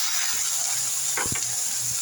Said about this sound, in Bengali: আদা রসুন আর জিরা পেস্টটা দিয়ে দিলাম। এর মধ্যে একটু পানি দিয়ে দিব।